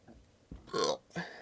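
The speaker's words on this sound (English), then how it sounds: "I just burped." A loud, close burp rumbles out, followed a moment later by a shorter second gulping burst. No one talks.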